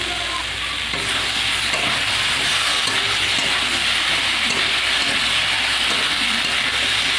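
Cumin paste fries with mango pieces in a pan, giving a loud, continuous, even sizzle that stays steady throughout with no voices.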